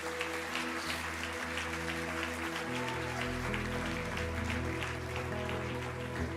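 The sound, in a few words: audience applauding in church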